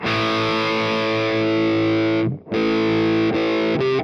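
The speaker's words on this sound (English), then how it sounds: "let's hear what it sounds like distorted with a bit of tone rolled off" Gibson Les Paul Classic High Performance electric guitar from 2017, played through distortion with the tone knob rolled off, ringing out sustained, thick chords loudly with a brief gap, then more chords and short stabs.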